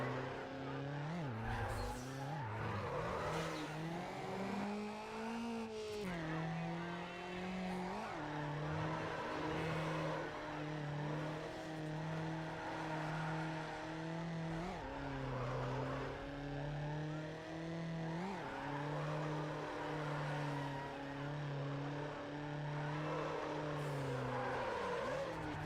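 A race car from the Need For Speed Underground video game roars continuously, its engine revving up and down through gear changes, with tire squeal blended into the steady, loud mix.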